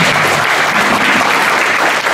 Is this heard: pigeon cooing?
no